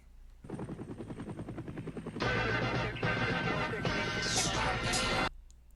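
A helicopter sound effect opens the intro of a hip-hop track, its rotor chopping rhythmically at first, then swelling into a loud, dense roar that pans across as the music builds and cuts off near the end.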